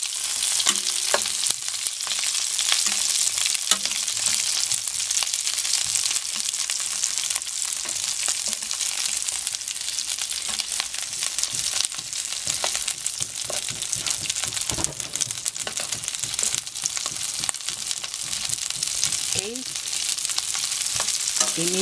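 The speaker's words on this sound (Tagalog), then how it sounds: "Light lang ang gagawin natin pag prito dito" Food fries in a pan over medium heat while prawns or vegetables for ginataang kalabasa are lightly cooked, giving a steady, loud, dense sizzle with occasional stirring scrapes and no talk throughout.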